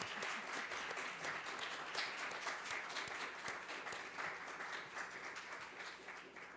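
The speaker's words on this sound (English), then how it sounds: "Let's give our panelists a big round of applause." A big round of applause for panelists after a discussion on gun violence, dense sustained clapping from an audience, fairly faint and slowly tapering, with no voices over it.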